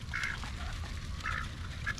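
Ducks kept in a temporary house quack in short nasal bursts, a few separate calls over steady rain-like background noise, nearby but fairly soft.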